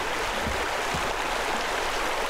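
In the video game Pool Cleaning Simulator, water drains from a pool as a loud, steady, broadband rush of flowing water that carries on unbroken throughout.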